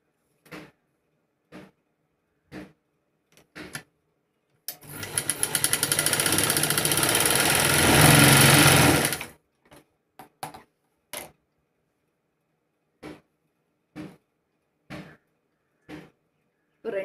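A sewing machine runs steadily for about four seconds in the middle, stitching a cross seam on fabric for a 40-size garment; sparse sharp clicks and taps come before and after the run, with no talking.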